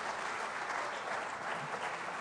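Steady, moderately distant applause from an audience thanking a guest at the close of an onstage conversation, a continuous even wash of many hands clapping with no voices on top.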